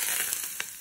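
Chicken fries in hot oil with a steady, close sizzle and a few faint crackles over a brief moment.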